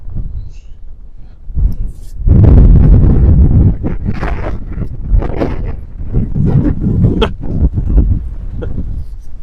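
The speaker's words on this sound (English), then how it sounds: "Yep, it's windy." Strong wind buffets the microphone while camping on Dartmoor, making loud gusting roars that rise and fall. People talk intermittently through the wind.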